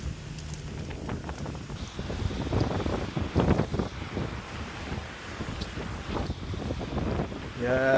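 Strong, gusting wind sweeping over an exposed mountain spot, roaring and buffeting the microphone in uneven surges for the whole stretch, with a brief knock near the end and no talk.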